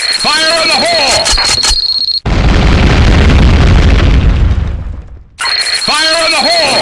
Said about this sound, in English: Grenade! Fire in the hole!